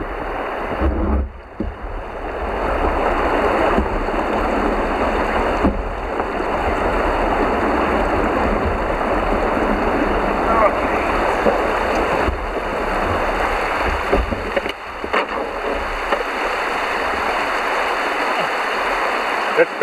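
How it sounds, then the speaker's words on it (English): Fast-flowing creek water rushes loudly and steadily past a canoe at a beaver dam, a continuous broadband roar that fills the whole stretch with only brief dips. "That's fast water, eh?"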